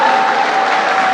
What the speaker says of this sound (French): est-ce qu'on peut bien applaudir pour la grande orientale?